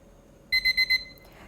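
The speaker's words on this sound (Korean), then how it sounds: "가스레인지 근처에서 타이머가 울릴 때까지 기다리겠습니다" A kitchen timer beside a gas stove, while kimchi stew cooks, rings four quick, evenly spaced electronic beeps over a quiet background, followed by a brief soft tone.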